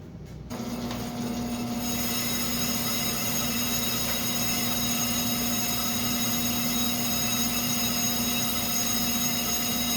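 A brake lathe cutting a brake rotor gives a steady mechanical whine with a constant high tone and grinding hiss, running continuously at a smooth, even pace.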